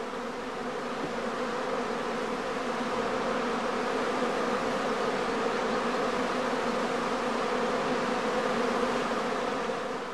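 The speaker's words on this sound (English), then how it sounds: "The experienced eye of the beekeeper can detect the first signs of swarming even at some distance" Honeybees swarming at the entrance of a heather skep hive in an apiary, a dense, continuous buzzing drone that holds steady and fairly loud throughout.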